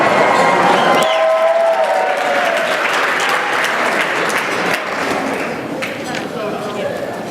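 A wedding toast audience gives a welcoming round of applause, dense sustained crowd clapping, loud and continuous, tapering slightly over seven seconds with murmuring voices mixed in.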